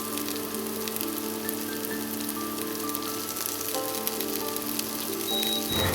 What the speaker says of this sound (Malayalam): അപ്പോൾ ഇഞ്ചിയും വെളുത്തുള്ളിൻ്റെയും റോസ്മെല്ല് മാറുന്നത് വരെ ഒന്ന് വഴറ്റിയെടുക്കുക.